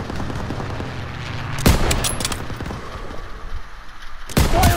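Machine gun fire in Call of Duty: WWII during a street battle in a town square, a steady rattling stream with sharp loud bursts breaking through, heard close and with no talk.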